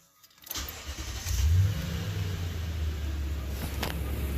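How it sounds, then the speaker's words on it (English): A 2010 Toyota Tundra with a secondary air injection fault (P2443) cranks and fires up close by, the engine catching after a brief crank and settling into a steady, loud idle. "We're going to start the engine."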